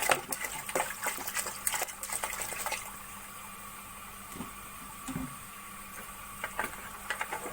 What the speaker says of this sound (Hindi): अब इसमें 6 गिलास पानी शामिल कर लेंगे।